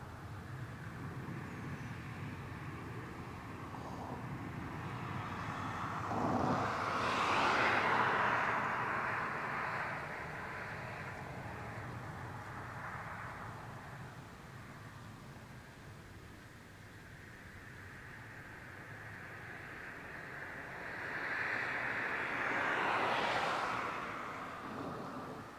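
An airliner coming in to land at Barcelona El Prat airport, its broad jet roar swelling as it passes at moderate distance and fading, then a second louder swell near the end over steady outdoor background noise.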